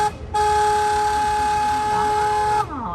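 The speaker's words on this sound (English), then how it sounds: "the real reason I just honked my boat's horn" A single loud, sustained boat horn blast, steady for about two seconds, close by and over a low background rumble.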